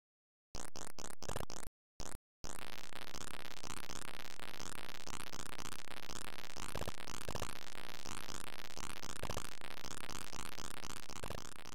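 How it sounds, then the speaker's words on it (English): Constant roaring jet noise from an Apple II game about attacking a tank and bombing an ICBM, a dense, steady, buzzy wash after a few brief stuttering bursts at the start, loud and unbroken to the end. "the constant terrifying noise of the jets in this game is"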